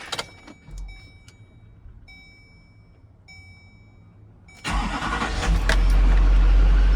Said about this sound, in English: I'll crank it up for a second for fun